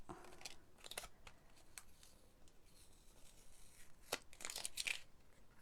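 A mini stamp and emboss machine cuts through a post-it note, giving quiet scratchy crunches and crinkles in short bursts, with a louder cluster of crisp cuts near the end.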